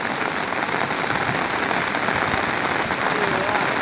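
Heavy rain pours steadily beside a swollen creek, a dense, unbroken hiss that stays loud and even throughout, with no voices.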